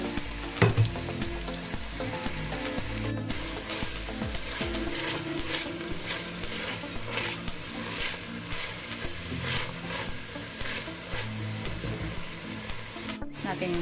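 White onion and celery sauté in a pan for osso buco, a steady, fairly loud sizzle that runs without a break, with stirring scrapes mixed in throughout.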